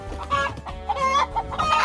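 Hens cluck and a rooster calls close by in a quick, busy burst of overlapping fowl sounds, in Spain.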